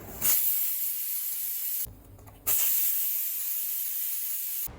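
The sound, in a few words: pressure cooker whistling and releasing steam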